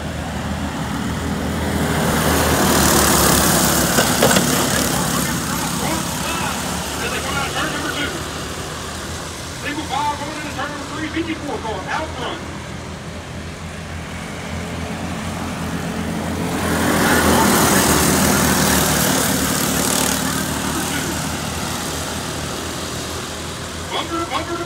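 Predator go-karts race around a dirt speedway, their engines droning and swelling as the pack passes near and fades away, under continuous loud announcer-style talk.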